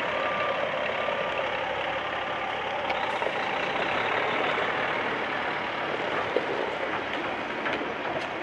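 A steady, loud rumble of a nearby truck at a railway lineside, broad and constant noise with no talk over it.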